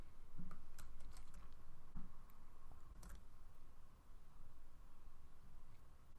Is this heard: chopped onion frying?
no